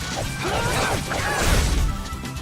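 A heavy smashing hit lands during combat in the Tales of Vesperia video game, a loud crashing impact buried in dense, continuous battle noise with swooshes and tonal effects.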